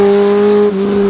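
A Toyota MR2 engine screams at full throttle on a race track, a sustained high, steady howl up near 8,500 RPM, loud and close, with a slight dip near the end.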